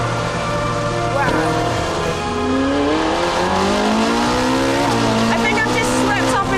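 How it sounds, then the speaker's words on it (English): A red Ferrari driven hard on an Italian mountain road, engine note rising and falling through the gears as tyres squeal and scrub, loud and close, with a voice talking over it. "A red Ferrari in Italy on Mountain Road."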